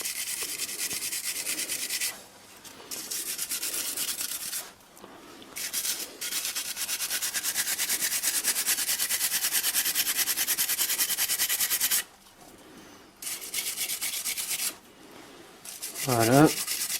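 Steady metallic scrubbing of a wire brush on the LPG filter housing of a Chevrolet Aveo with a BRC gas system, in repeated long strokes broken by short pauses, close and fairly loud, with no voices.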